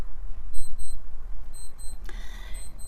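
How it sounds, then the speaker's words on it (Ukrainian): An alarm clock beeps indoors while someone knits: three short, clear bursts of high electronic double beeps at steady intervals over a faint room hum, with no talking. "у мене запищав будильник"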